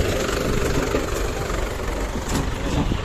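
A John Deere 5105 4x4 tractor engine runs steadily at close range, a continuous low diesel rumble with a slightly uneven throb and no voices over it.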